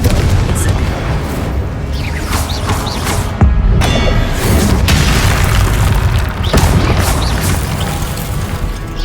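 Booming blasts from the Confringo spell in the video game Hogwarts Legacy, loud repeated explosions with deep thuds and crashing debris layered over continuous rumbling game combat.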